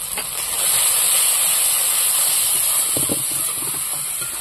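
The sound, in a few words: spices sizzling while being sautéed with salt and turmeric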